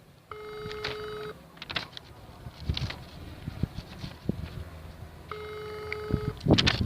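Push-button telephone tones sound twice as a call is placed, steady beeps near the start and again near the end, with tapping, clicks and muffled background noise in between.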